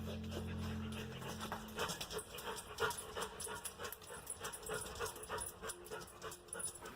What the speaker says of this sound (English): or some other animal is panting rapidly inside the sewer